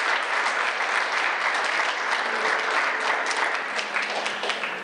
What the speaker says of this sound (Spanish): Denle ese aplauso al Eterno.